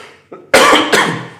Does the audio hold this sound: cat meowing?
no